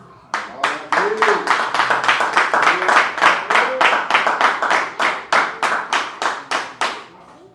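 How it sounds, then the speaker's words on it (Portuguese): A church congregation claps in steady unison, a long run of sharp, evenly spaced rhythmic claps close and loud, with a voice briefly speaking or singing over the start. "Palmas para Jesus."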